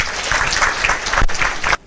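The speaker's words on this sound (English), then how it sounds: "clap for Ms. Dixit." A roomful of people applauding Ms. Dixit at an alumni talk, loud, full clapping sustained for under two seconds before cutting off abruptly into quiet.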